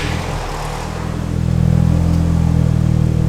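A Volkswagen hot hatch with only one working exhaust tip starts and idles, the engine settling into a loud steady low rumble after a brief quieter moment.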